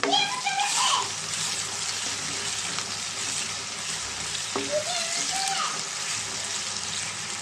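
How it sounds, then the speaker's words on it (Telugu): Dried shrimp frying in a pan with cumin and ginger garlic paste for an okra and egg tamarind curry, a steady close sizzling hiss throughout with a voice talking at times. "ఎండ్రాయిలు మనం వేసిన జీలకర్ర అల్లం వెల్లుల్లి పేస్ట్ అంతా కూడా బాగా ఫ్రై అయిందండి"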